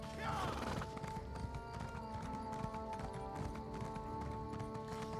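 Horse hooves clip-clop at a gallop in the Elder Scrolls Online video game, a steady rapid rhythm running throughout alongside game music and ambient noise, with a brief whinny near the start.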